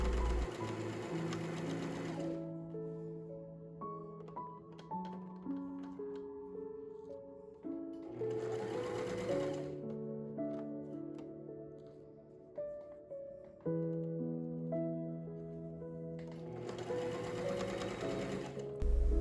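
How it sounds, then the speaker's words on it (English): A sewing machine runs in several long bursts, stitching three layers of a shirt together, its steady mechanical whir loud and close with brief pauses between passes. "Sew all 3 layers together."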